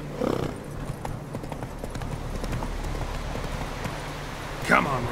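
Roach the horse in The Witcher 3 clip-clops at a steady walking pace, hooves thudding moderately close, with a short snort or whinny near the start and another near the end while a voice speaks.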